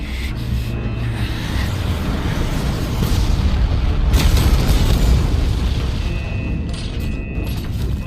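A massive sci-fi explosion from the animated series Swallowed Star, a dense, sustained roaring rumble that swells in the middle and slowly fades, with no speech.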